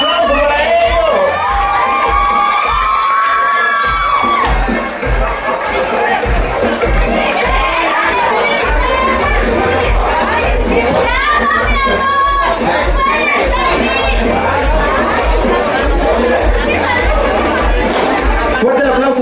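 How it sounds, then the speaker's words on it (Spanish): Guests at a quinceañera applaud and cheer loudly, a steady roar of clapping, whoops and shouts lasting throughout, with a voice speaking over the crowd noise at times. "¡Más fuerte el aplauso para ellos!"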